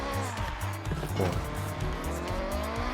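Tires squeal and skid in Forza Horizon 6 as a muscle car accelerates, with a loud revving engine underneath and a wavering screech rising and falling.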